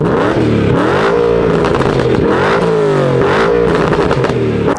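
A modified BMW M3 engine revs repeatedly through a loud, raspy exhaust, rising and falling in pitch with crackly bursts, very close and continuous.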